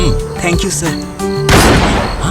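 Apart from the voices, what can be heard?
gunshot in a building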